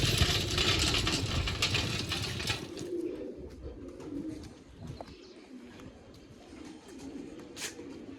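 Pigeons coo softly in a loft under a steady broadband rush of noise that is loudest at the start, with low cooing murmurs and occasional faint clicks.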